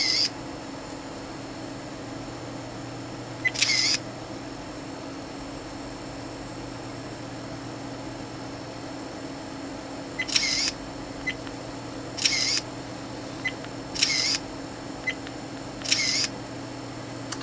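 An SJ4000 action camera takes photos in quick succession, each shot a short, sharp electronic shutter click heard close up against a quiet hum, with one near the start and a run of four evenly spaced clicks near the end.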